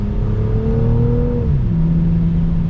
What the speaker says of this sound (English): Let's see what this accelerates like. Ooh, and it's got some power.